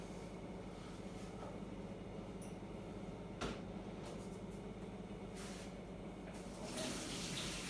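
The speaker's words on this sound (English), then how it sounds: "So I'm just going to drain this really quickly." Cooked runner beans, sweet corn and carrots are drained into a kitchen sink, water pouring steadily in a continuous faint splashing rush, heard alone without talk.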